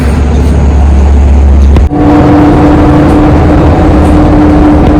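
A car engine rumbles loudly close up, then after a brief drop a steady hum settles in as the vehicle pulls away, with no talking.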